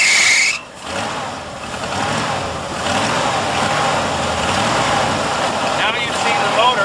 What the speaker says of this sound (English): Now you see the motor running,